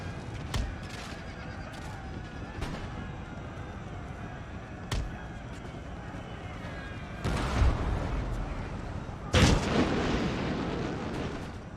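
Cannon blasts and musket gunfire in a battle in Empire: Total War, with several sharp booms standing out over a steady rumbling din of distant fire throughout.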